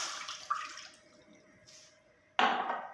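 Water splashes and pours into a cooking pot on a stove as the first step of a plum chutney, with a short burst, a quieter trickle, then a stronger gush near the end.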